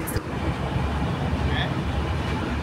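A passenger train rolls along on a journey back from Deoghar, giving a steady, loud rumble and rattle throughout with no break, and faint voices sit under the noise.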